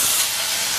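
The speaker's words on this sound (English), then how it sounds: "Watch how this steam up, y'all." Butter sizzling and steaming in a hot pan while French toast cooks at home, a steady bright hiss that holds at an even loudness throughout, close up and with no voices.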